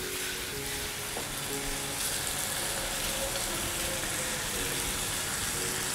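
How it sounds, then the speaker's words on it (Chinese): Fatty pork pieces fry in a pan with a little oil to render out the fat. A steady, dense sizzle continues throughout at moderate loudness, with no talking over it. "一定给它把多的油脂煎出来。"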